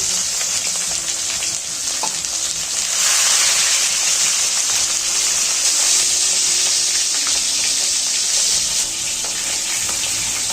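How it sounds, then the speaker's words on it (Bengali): Chitol fish fries in hot oil in a wok, giving a steady, loud, close sizzle with crackling spatter that swells slightly midway and continues throughout with no talking. "ম্যারিনেট করা হয়ে গেছে এখন মাছটা আমরা ভেজে নিই"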